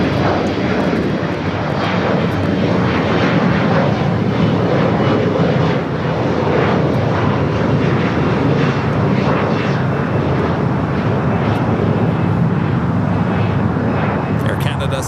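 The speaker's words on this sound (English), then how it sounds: "Air Canada 737 MAX 8. Holding short for crossing over to 5 right." Jet engine roar of an Air Canada Boeing 737 MAX 8 at LAX, loud and steady throughout, with radio talk mixed over it.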